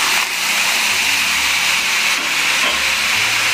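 A steady, loud hiss and sizzle of water poured into hot masala for mutton chops, continuing evenly without talk.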